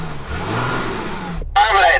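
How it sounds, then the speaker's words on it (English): A Toyota Hilux diesel pickup truck engine revs hard and then winds down over about a second and a half, before a voice briefly speaks. "So I'm going to rev up my diesel engine."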